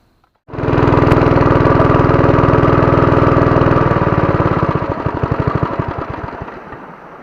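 A fishing boat engine starts abruptly and runs loud and steady close by, a throbbing mid-pitched drone that gradually breaks into an uneven chugging pulse.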